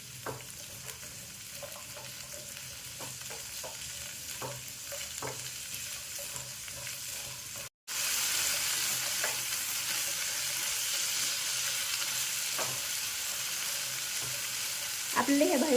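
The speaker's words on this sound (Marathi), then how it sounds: "फुल गॅसवर आपल्याला ह्या परतून घ्यायच्या आहेत" Vegetables for veg Kolhapuri stir-fried in oil over a full high flame, a steady broadband sizzle with scattered spatula scrapes and clicks, briefly cutting out midway before returning louder and continuing alone without talk.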